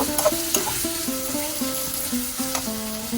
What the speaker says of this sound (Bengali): পেস্টটা এখন আমি ভেজে নেব।